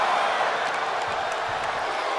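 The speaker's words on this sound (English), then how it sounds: "you hear this capacity crowd following you on that journey" A large capacity crowd in the WWE 2K23 wrestling video game roars and cheers steadily in the distance, a dense wash of noise with occasional thumps.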